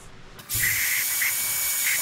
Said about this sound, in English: I'm going to do a little bit more spray right in this area